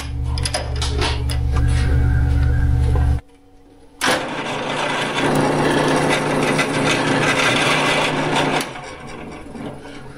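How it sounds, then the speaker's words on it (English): A power drill bores out a hole in metal for a custom chainsaw mount, loud steady whirring and grinding close up, a short pause, then continued drilling with a harsher rasp. "Gonna drill that out."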